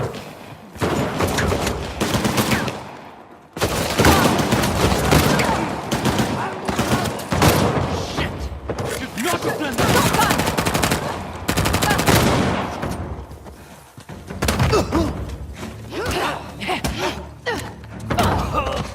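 Gunfire during a firefight in the action game Uncharted: The Lost Legacy, heavy booming shotgun blasts mixed with rapid bursts, loud and near, in intense volleys broken by short pauses, with occasional voices under the shots.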